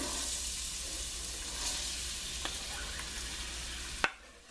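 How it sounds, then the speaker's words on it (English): Red onion, carrot, celery, green, jalapeno and red peppers and garlic sauté together in a pan with a low, steady sizzle and light stirring, and a sharp clack comes near the end before it quiets. "There's all the vegetables that I'm sauteing together first."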